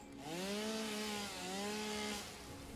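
A chainsaw revs up and cuts through plants in the video game Satisfactory, its engine whine rising and falling in two close, loud bursts with a buzzing grind.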